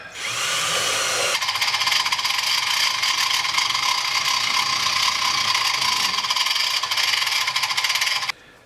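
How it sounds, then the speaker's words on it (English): A power tool, probably a drill or driver, runs in one long continuous burst at close range, tightening screws on a wooden single-blade box-joint jig, then cuts off abruptly. "And then a bit of differential screw tightening"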